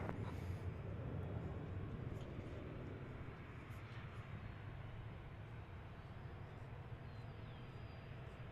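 An airliner taking off from runway 18 left at DFW International Airport, a steady broad distant engine roar that holds level and then eases slightly, heard alone from afar.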